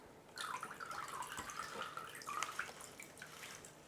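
Plain tap water trickling and splashing, most likely poured from a jug while potting plants, with irregular bright splashes and drips that rise and fall over a few seconds, no speech.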